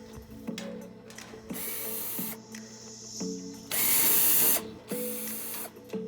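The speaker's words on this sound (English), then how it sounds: "Then we'll finish removing the screws from the control panel." A power driver whirs in short bursts, backing 5/16 screws out of a clothes dryer's control panel, each run a close buzzing whine with brief pauses between screws.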